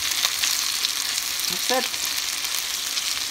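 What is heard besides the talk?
garlic frying and sizzling in a pan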